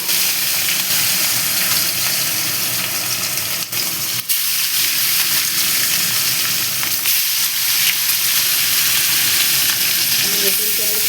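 Fish fry in hot oil in a non-stick wok, giving a loud, steady, close sizzle and hiss that fills the whole stretch, with faint stirring and utensil touches underneath.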